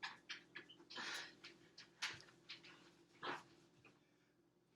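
A dog in a kitchen whimpers in several short, soft yelps and whines spread irregularly across a few seconds, close but faint, with no talking.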